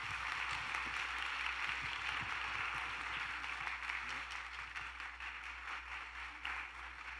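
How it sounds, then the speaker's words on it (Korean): A church congregation claps together at a seminar service, a steady, fairly faint wash of applause that holds evenly from start to finish with no voices over it. "예, 박수 하겠습니다."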